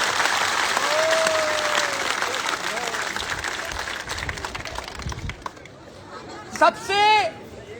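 Crowd applause at a gathering in Jalore, steady clapping and murmur that fades over several seconds, then a voice speaks near the end.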